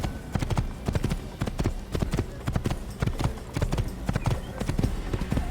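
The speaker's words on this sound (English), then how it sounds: "Just riding a horse and galloping will get people to chase after you." Horse hooves clip-clop in a fast, steady gallop rhythm, close and continuous, while riding in the Assassin's Creed video game.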